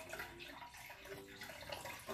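Liquid Jell-O mix pours into cups in a soft, continuous watery wash, steady and fairly quiet, with no voices over it.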